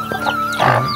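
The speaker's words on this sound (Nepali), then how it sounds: "चल्ला आएर छ" Small chicks cheep near a farmhouse, close and loud in short high peeps over a dense, noisy background.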